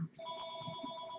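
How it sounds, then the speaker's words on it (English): A telephone rings at home, one faint, steady electronic ring tone held alone without talk. "I try not to answer too many phone calls after 6."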